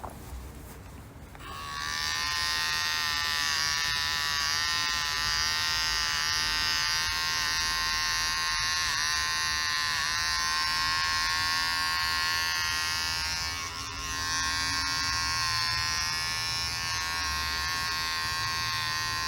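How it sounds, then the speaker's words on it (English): Electric hair clippers fitted with a 3 mm guard buzz steadily and close by as they cut hair on the sides of a man's head during a home haircut, with a slight dip in the drone partway through. "I prefer to shave a little bit more on the side, so I'm going to use the 3 millimeters on either side of here"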